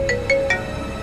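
A mobile phone ringtone plays in a short repeating pattern of three electronic chirps, moderately loud, with no voices over it.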